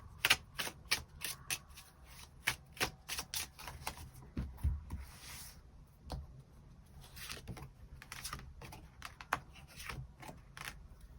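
Tarot cards being shuffled and drawn, a run of quick crisp flicks and riffles with soft slaps between them, close and fairly loud with no voice.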